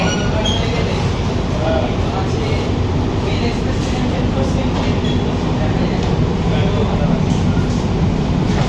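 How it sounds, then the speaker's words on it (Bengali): The Sealdah–Kalyani AC local train rolls into platform 3 at Kalyani station, its loud, steady rumble heard from on board with faint wheel squeals over the constant roar. "ট্রেন এই মুহূর্তে ঢুকছে তার যাত্রাপথের অন্তিম স্টেশন কল্যাণী স্টেশনের 3 নম্বর প্ল্যাটফর্মে"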